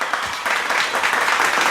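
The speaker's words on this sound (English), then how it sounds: "the fans here cheering Carmella Carmichael on as she leaves MPWF War" A large arena crowd of around 20,000 fans in Denver, Colorado cheers and applauds in the wrestling game WWE 2K25, a dense, steady roar with clapping texture throughout.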